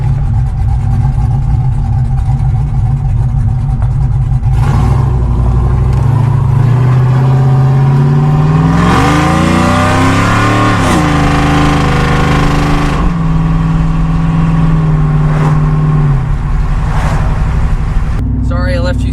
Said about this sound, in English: Got the cutout open and we're gonna hop on the highway with it open.